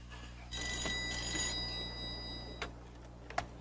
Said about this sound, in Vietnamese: Anh Long, điện thoại.